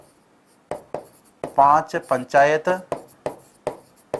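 Marker or chalk strokes on a board during a lesson, a series of short scratchy taps spaced through the clip, mixed in with a teacher talking close by.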